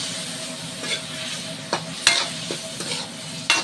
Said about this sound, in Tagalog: gisa-gisa na ang ating chicken